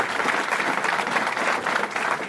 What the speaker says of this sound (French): Abdallah, on peut l'applaudir.